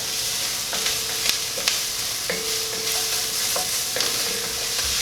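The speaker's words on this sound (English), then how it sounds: "I'm going to let this cook for about 1 minute. Let it stir." Butternut squash pilaf sizzles in a pan, a steady frying hiss broken by clinks and scrapes of a utensil stirring the rice, close and clear with no voices.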